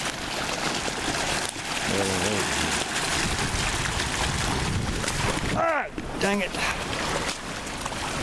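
Someone wades across a shallow creek outdoors, with constant rushing water and wind noise and splashing steps throughout, and a man exclaims briefly.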